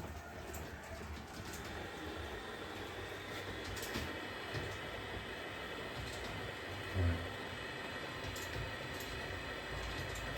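An LGB model train of Rhaetian Railway type runs on a small indoor layout, giving a steady, fairly faint rolling rumble with light ticking clicks throughout and one short soft bump near the end.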